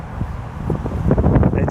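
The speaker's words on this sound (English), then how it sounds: "As you can hear the wind of my tablet because the wind is blowing out of the trees" Outdoor wind buffets a tablet's microphone after a post-tropical storm, a rough, continuous low rumble that swells louder toward the end, with faint rustling of trees behind it.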